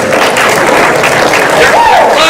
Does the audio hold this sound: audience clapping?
yes